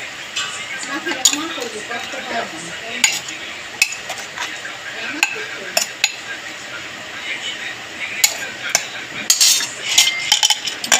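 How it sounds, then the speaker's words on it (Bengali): A utensil stirs turmeric powder and salt into raw jackfruit in a pot, making irregular metallic clinks and scrapes at a steady, moderate level. "একটু হলুদ গুঁড়োও দিয়ে দেবো, একটু নাড়িয়ে নেব যাতে সব মিশে যায়।"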